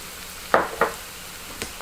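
Onions, red chilies and spices frying in a pan for vegetable noodles give a soft, steady background sizzle broken by two quick close scrapes of a utensil and a fainter third one, with no talking.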